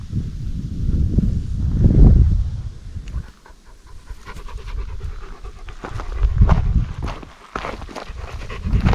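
A German Shepherd named Major pants heavily and rhythmically up close on a mountain hike to Hala Jaworowa, with footsteps and rustling in the background.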